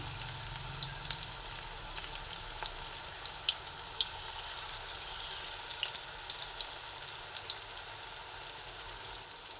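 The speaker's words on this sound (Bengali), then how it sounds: "আরও দুটো তেলের মধ্যে দিয়ে ভেজে নিচ্ছি" Spinach fritters fry in hot oil, giving a steady close sizzle with crackling pops that runs the whole time without speech.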